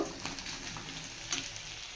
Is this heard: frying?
yes